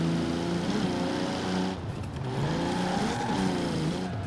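Turbocharged MK3/A70 Toyota Supra drift build in Forza Horizon, 11 psi of boost and about 206 horsepower, its engine droning and revving steadily, loud and close, with slow-climbing harmonics and no talk.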